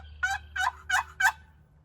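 A turkey box call strap worked to imitate a gobble, four quick raspy rattling bursts in an even rhythm, close and fairly quiet over faint background hum.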